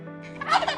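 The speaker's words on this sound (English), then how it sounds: "Turkey." A turkey gobbles in one short, close, rapid burst over faint background music.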